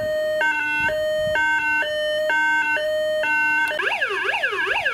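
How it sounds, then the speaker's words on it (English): A Hess toy fire engine sounds a loud electronic siren up close, first a two-tone hi-lo pattern, then switching to a rapid rising and falling wail. "We'll put the other siren on"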